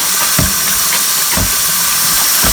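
A Casabella spin mop whirs in its bucket with a continuous airy hiss, punctuated by soft rhythmic thumps about twice a second.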